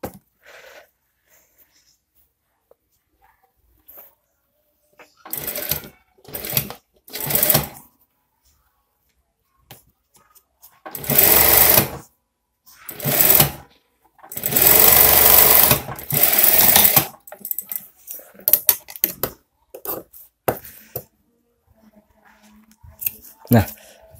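A sewing machine stitches the pocket of a scout uniform in several short bursts of rapid needle clatter, the longest lasting a couple of seconds, with quieter pauses and faint handling noises between runs.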